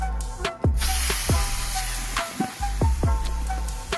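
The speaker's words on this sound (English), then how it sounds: "Time to sear this one." An unseasoned steak sears in a hot pan with a steady, loud hiss and sizzle, broken by repeated sharp clanks and scrapes of metal against the pan.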